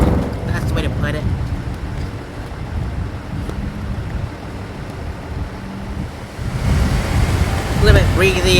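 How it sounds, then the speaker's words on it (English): Breezy outdoor wind buffets the microphone in a steady low rumble that swells louder toward the end, with a person talking over it. "A little bit breezy."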